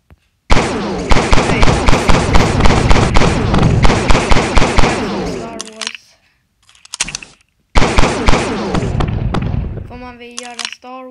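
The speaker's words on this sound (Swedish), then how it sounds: "nu är den väldigt mycket skott överallt" Rapid automatic gunfire from an AR gun video game rattles loudly in long bursts, pauses briefly, then resumes with another sustained burst before trailing off into ringing tones.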